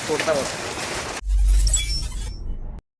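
Rain patters and hisses steadily on a surface near a forest temple at Aruvikal, Kottayam, with people talking over it, then the sound cuts off abruptly.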